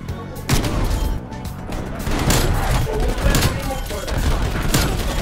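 Rapid gunfire and shotgun blasts from a shooter video game fill the mix, dense and loud with overlapping bursts, while a voice speaks faintly underneath.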